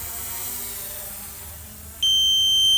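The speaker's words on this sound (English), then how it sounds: "Got to land before that beeping sound." DJI Mini 3 Pro drone warning beeping outdoors over a lake, a steady high-pitched electronic tone that starts abruptly and holds, above soft wind and ambient noise.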